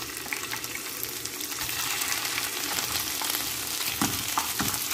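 Shrimp dropped into a pan of browned garlic for vegetable and shrimp fried rice, setting off a loud, steady sizzle of hot oil with scattered pops and crackles, no voices over it.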